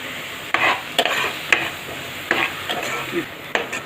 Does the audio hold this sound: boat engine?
no